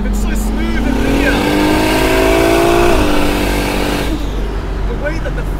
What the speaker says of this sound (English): The way that the flutter sounds in this car, in conjunction with the 2JZ scream